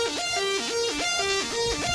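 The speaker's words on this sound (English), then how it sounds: "this gives it this screechy kind of lead sound" Screechy wavetable synth lead for melodic dubstep, its pitch wobbling from a chaos LFO on the fine tune, looping a short sliding up-and-down figure in a bright, buzzy tone, played alone.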